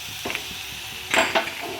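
Shop-style chow mein with vegetables and egg being stirred in a pan using two spoons, giving a soft sizzle under brief metallic clatters, one short scrape and then a louder double scrape near the end.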